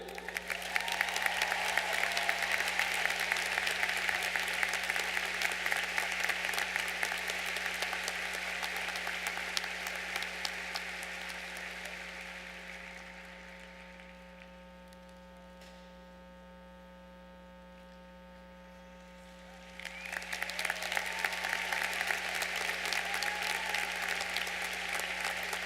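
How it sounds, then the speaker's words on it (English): Commencement audience applauding Senator Avelle Gordley, a large crowd's dense, steady clapping that fades to near silence midway and then swells back, heard over a constant electrical hum in a big hall. "Please give a round of applause to Senator Avelle Gordley."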